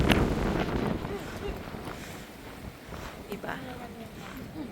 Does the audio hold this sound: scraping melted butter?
no